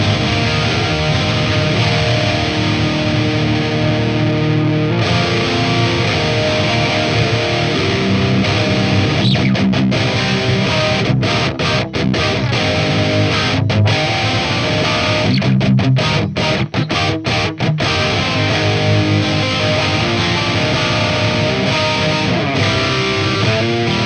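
Electric guitar played through an amp with its voicing knob set to thick, giving a saturated, distorted tone. Dense chords ring loud and continuous with no pauses and no talking.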